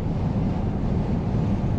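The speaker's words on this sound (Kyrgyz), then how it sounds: "Америкада абдан катуу шамал болуп атат" Strong wind buffets a car on the road, a constant low rumbling roar with heavy gusting texture that stays steady and close.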